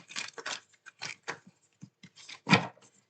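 Tarot cards being shuffled by hand, a quick series of soft riffling bursts in short close clusters, ending in one louder snap, with no talking.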